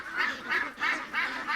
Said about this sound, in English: I'm really liking the geese this year